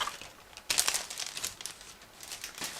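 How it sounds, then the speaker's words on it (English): Plastic model kit sprues for an ICM 1/32 Sea Gladiator Mk.II are pulled out of a plastic bag, giving close, intermittent crinkling and rustling bursts that start sharply and come in several uneven waves. "I'm going to remove them out of this plastic bag."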